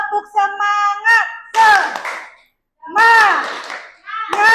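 Schoolchildren in a classroom doing the tepuk semangat spirit clap, sharp hand claps punctuating loud group chanting, in short bursts separated by a brief pause.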